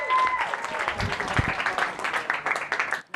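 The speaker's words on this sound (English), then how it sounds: "Let's give them a big round of applause." Audience applause at a youth-focused digital impact summit, a dense patter of clapping from a crowd that fills the whole moment at steady strength, fading out near the end.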